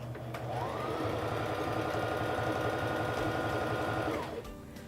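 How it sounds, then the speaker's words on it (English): A Singer Fashion Mate 3342 sewing machine stitches scrap fabric in one steady, fast, loud run that ramps up, holds about three seconds, then winds down and stops. "I'm going to begin sewing by pressing on the foot control."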